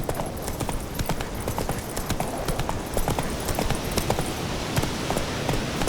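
Hoofbeats of a horse galloping in The Witcher 3 video game, a steady rapid clip-clop running throughout, fairly close and continuous, with no talking over it.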